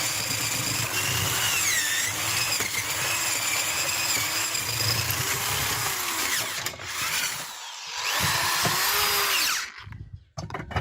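Electric cordless drill-driver whining steadily at high speed near the mic, with brief pauses, while working a flat-weeder attachment for a walk-behind tractor; the motor stops and restarts toward the end as the chuck is loosened.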